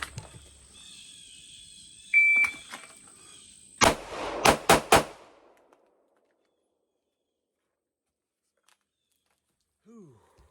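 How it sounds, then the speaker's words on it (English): Handgun fired at a paper target from three yards on a practice range: four loud, sharp shots in quick succession, a few seconds of quieter handling and a brief tone beforehand, then near silence. "that's where I'll be shooting from"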